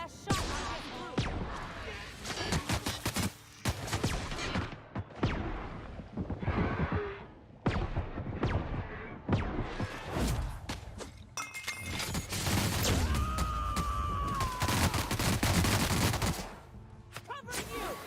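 Gunfire in the video game The Outer Worlds: a burst of sharp shots and rapid volleys with crashing impacts, loud and close, interspersed with someone talking.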